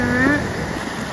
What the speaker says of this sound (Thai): เห็นปะน้ำตกอันนี้ชื่อชั้นที่ 3